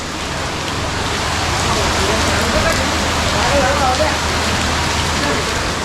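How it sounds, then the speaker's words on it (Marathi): Heavy rain pours outside in a dense, steady hiss that stays loud and unbroken throughout. "बाहेर बघा किती पाऊस आहे"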